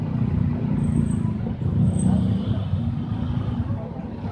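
Heavy road traffic at the Suroja toll exit, mostly four-wheeled cars streaming in from outside Bandung, a continuous low rumble of engines with brief higher squeals like brakes, steady and fairly close.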